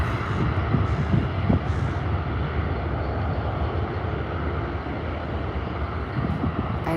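A Boeing 787 airliner on the ground at Calgary airport, a steady loud low jet engine rumble and roar with no change in level and no talking.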